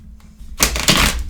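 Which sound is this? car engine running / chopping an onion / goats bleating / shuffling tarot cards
shuffling tarot cards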